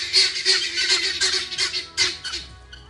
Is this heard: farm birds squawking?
yes